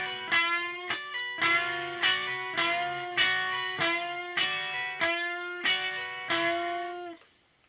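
Slow electric guitar phrase from a solo, repeated unison bends and pull-offs, about a dozen distinct plucked notes in steady rhythm, then a final note decaying to silence.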